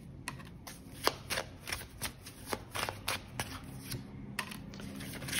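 Tarot cards shuffled by hand nearby, a quick run of crisp riffling flicks and soft card slaps over a low background hum, with no talk.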